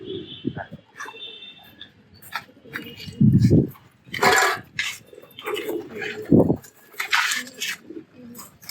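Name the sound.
Giribaz pigeons cooing on a rooftop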